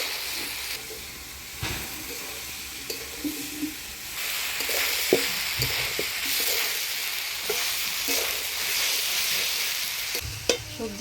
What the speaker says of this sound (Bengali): সবজির সাথে চাল ডাল দিয়ে ভালো করে নাড়াচাড়া করে নিলাম